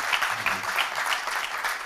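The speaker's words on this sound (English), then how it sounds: "you might want to hold your applause" An audience at a showcase applauds, a continuous dense wash of clapping at steady moderate volume with no voices.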